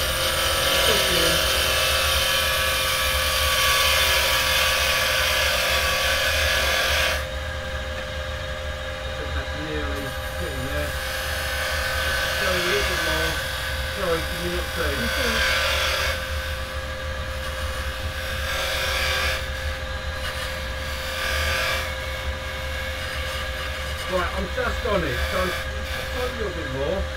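A wood lathe spins while a carbide tool cuts into the turning wood. A loud, continuous whir runs throughout, with scraping bursts where the tool bites, and a voice talks over it.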